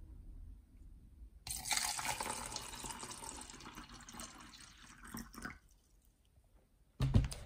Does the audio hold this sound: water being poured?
yes